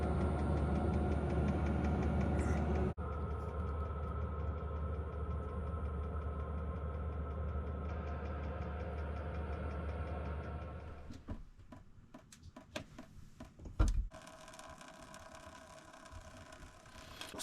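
A diesel heater running through a -30°C cold snap makes a steady, close mechanical drone for most of the stretch, then gives way to quieter irregular clatter and knocks.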